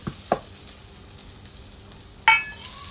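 Mashed potato and grated coconut stirred together in ghee for potato modak, with a few sharp spoon scrapes against the pan over a faint, steady sizzle; no voices.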